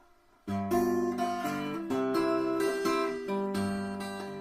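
An electric guitar plays a short blues turnaround of sustained chords and bent notes, starting abruptly after a moment of quiet.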